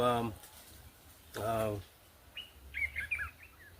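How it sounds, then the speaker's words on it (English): A bird chirps in several quick, bright calls at a moderate distance in the Kariba wilderness, following two short bursts of nearby speech. "the sound of the bird that we are listening to"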